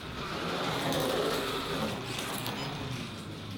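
A Carrera Digital 132 slot car, a Chevrolet Corvette Z06 in Whelen Motorsports #31 livery, runs its small electric motor at a steady high-pitched scream near 18,000 RPM. The whine holds close and fairly loud, with no voices over it.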